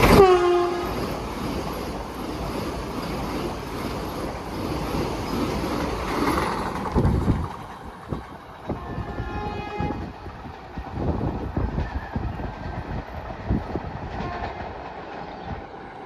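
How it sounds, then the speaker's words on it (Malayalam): A Vande Bharat express train (Mangaluru Central to Thiruvananthapuram Central via Alappuzha) sounds its horn and roars past a station at Ezhimala, then its carriages rumble and clatter away, loud and close, with no talk. "നമ്പർ വന്ദേ ഭാരതാണ് പോയത്."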